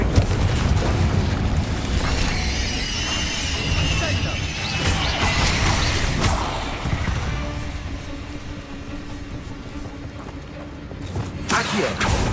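Repeated Confringo fire spell blasts in Hogwarts Legacy rumble and crash over several seconds, loud booming bursts with mechanical clatter, a sharp final burst near the end, and voices mixed in.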